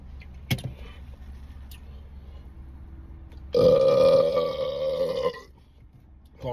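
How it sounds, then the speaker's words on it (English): Loud, drawn-out burp lasting nearly two seconds after drinking Pepsi, heard close in a quiet setting, preceded by faint rustling and a soft click. "Nothing burps better than a Pepsi."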